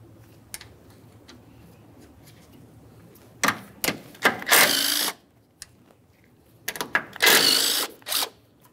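A 14 mm strut mounting nut on a 2006–2012 Ford Fusion is backed off with a hand tool, giving a few short clicking bursts of ratcheting against faint background hush, with long quiet gaps between them.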